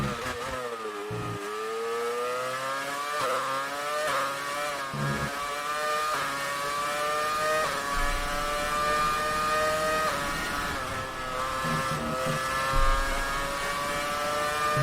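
A Formula 1 race car from the F1 2019 video game screams around the German GP circuit, its engine pitch climbing steadily through upshifts in a sustained, loud, close whine with brief dips between gears, no talking.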